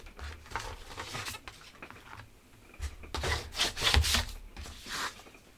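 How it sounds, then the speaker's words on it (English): Bone folder burnishing paper for a DIY photo album: close, dry rubbing and scraping strokes in irregular bursts, some brisk and louder toward the end, with no voices. "I'm going to turn this over and burnish."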